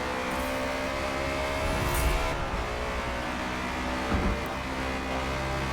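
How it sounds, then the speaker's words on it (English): A BMW race car's engine drones steadily in the Forza Motorsport video game, holding a high, even pitch with brief surges of revs as it powers through fast corners, with no voices. "The BMW being able to do pretty well in the higher speed corners."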